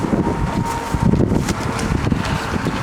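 Wind blows hard and steadily into an outdoor microphone, making a dense, rumbling buffeting with continuous gusty roar and fluttering bursts, and no voices.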